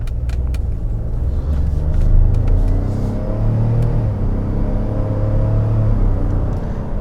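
Interior rumble of a 2021 Ford F-150 Hybrid driving in normal mode on Goodyear Wrangler all-terrain tires, a steady low road and drivetrain drone with faint whir, continuous and fairly loud, no talk.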